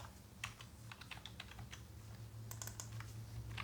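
Keys clatter on a computer keyboard in quick, uneven bursts of close, light clicks, with a faint hum underneath and no talk.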